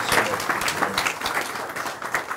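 Applause from an audience at a peace talk gathering in Morro Bay, a dense continuous patter of clapping lasting a couple of seconds with some mixed crowd noise.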